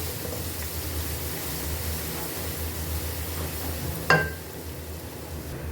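Garlic, ginger and crushed green chilies fry in a pan for a large chicken biryani, giving a steady soft sizzle with one sharp clink of a utensil near the end.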